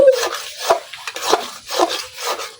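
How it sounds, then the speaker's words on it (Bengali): Pangas fish head and taro stem curry is stirred in a pan, a spoon scraping and rubbing against the bottom in several close, rhythmic strokes with a faint sizzle underneath. "তো এই পর্যায়ে নাড়তে উঠা লাগবো, নাইলে নিচে লাগতে যাইব।"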